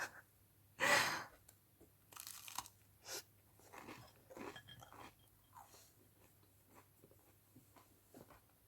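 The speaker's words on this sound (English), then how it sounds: "Should I pause the video when I'm chewing my food?" Food being chewed close to the mic, soft crunchy bites and mouth sounds in an irregular rhythm, with sighs and breaths between them and no talking.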